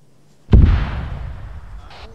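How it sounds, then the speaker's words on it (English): A single close mortar explosion in the military shooter ArmA 3: a sudden heavy boom followed by a long rumbling decay. "Guess you were right. There were mortars. Those are really close to us."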